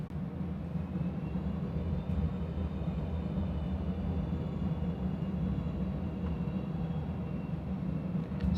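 An airliner taking off from runway 30 in a flight simulator, a steady loud low engine rumble holding even throughout, with no talk over it.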